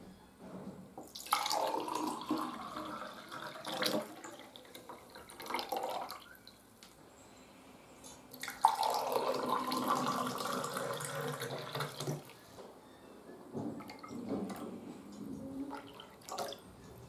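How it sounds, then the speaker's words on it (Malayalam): Panakam, a traditional jaggery drink with ice cubes, is poured into a glass in two long watery streams separated by a brief pause, ending in softer trickles. "ഇനി ഇത് ഗ്ലാസ്സിലേക്ക് ഒഴിച്ചു കൊടുക്കാം"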